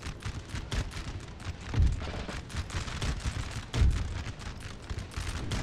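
Repeated booms of cannon fire during a Napoleon: Total War battle, a dense run of sharp distant blasts with two heavier thuds standing out, heard alone without talk.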